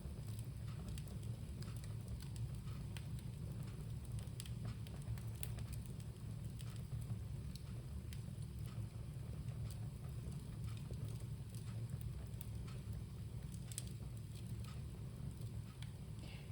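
A bonfire burns steadily outdoors, giving a continuous low roar with scattered faint crackles and pops throughout. It sounds fairly distant and soft, with no talk over it.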